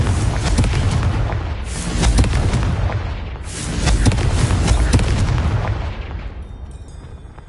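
Confringo spell explosions in a Harry Potter video game, two loud booming blasts with rumbling tails that fade out.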